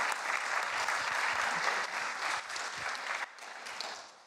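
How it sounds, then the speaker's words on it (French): An audience breaks into sustained applause at a gathering on fraternity, a dense wash of clapping that holds steady, then thins and drops to a softer level toward the end. "Et on l'applaudit."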